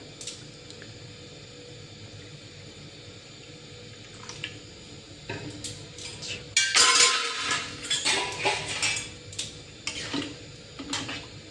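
Water pours into a pot of potato and chickpea dal, a splashing gush with clinks of a utensil rising midway and continuing loudly over steady kitchen background noise.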